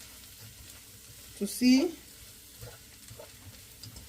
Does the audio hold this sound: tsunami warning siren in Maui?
no